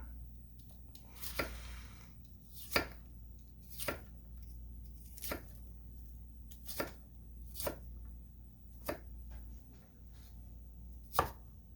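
White onion being chopped with a Bunka knife on a board for pico de gallo: about ten crisp, evenly spaced chops, close and clear over a quiet background.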